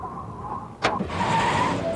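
A 1993 Toyota Camry drives along an open road, giving a steady engine and road hum with a brief whooshing swell partway through, moderately loud with no voices.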